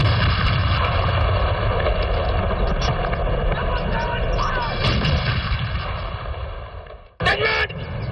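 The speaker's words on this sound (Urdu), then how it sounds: "توپوں کی سلامی کے وقت گولوں کی گھنگرج سے فضا گونج اٹھی" Ceremonial cannons fire a salute in Pakistan's federal capital on 23 March with loud, continuous booming and rumbling, and a voice talks over it.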